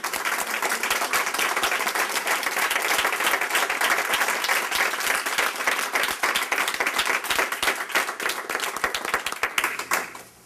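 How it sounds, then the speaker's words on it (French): Sustained audience applause at a conference closing session, dense many-handed clapping held steady throughout before tapering off at the very end. "je vous propose de vous leur donner une bonne main d'applaudissements."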